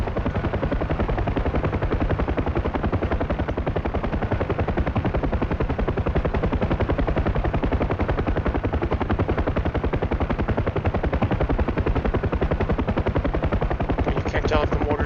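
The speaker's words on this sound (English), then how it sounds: "I'm gonna make rocket runs on the center of the AO and just see if I can suppress whatever's there" A UH-1H helicopter in DCS makes rocket runs, its rotor thumping in a loud, rapid, unbroken rhythm for the whole stretch while a voice talks over it.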